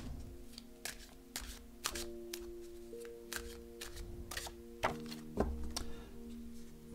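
Angels of Starry Avalon oracle cards are shuffled and drawn, giving repeated close flicks and riffles in an uneven rhythm with soft thumps as cards are handled, no voices.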